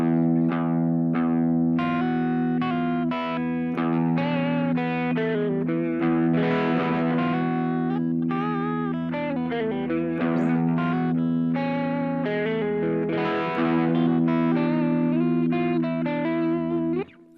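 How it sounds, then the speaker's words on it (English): A distorted electric guitar holds a low repeated pedal tone in E while higher notes move above it, played continuously and loudly with a heavy effects sound. "Here's some more pedal tones for you in E."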